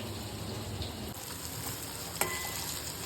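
Stuffed okra frying in a pan gives a continuous close sizzle and hiss, with one brief clack of a utensil partway through; no speech.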